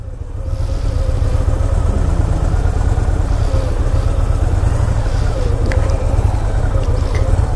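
A Victory motorcycle engine runs loud and close with a steady, deep, throbbing drone that stays even from start to finish.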